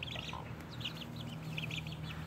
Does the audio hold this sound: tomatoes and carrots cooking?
no